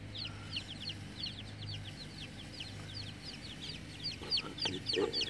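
A rooster clucks in short, repeated bursts against quiet outdoor background noise.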